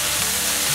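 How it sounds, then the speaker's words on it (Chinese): Dried tofu being quick stir-fried with tomato in a pan makes a loud, dense, continuous sizzle, close up and unbroken for the whole short moment. "还有豆干，快速翻炒"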